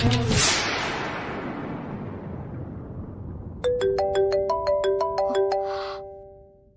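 A mobile phone ringtone plays a repeating melodic chime of clear, bright tones that starts a few seconds in and rings steadily, following a fading burst of background music.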